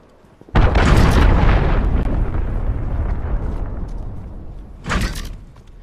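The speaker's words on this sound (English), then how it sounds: "Allied cruise missile away." A cruise missile explosion in a military video game: a loud sudden blast that rumbles and slowly fades over several seconds, followed by a second, smaller burst near the end, with no talk.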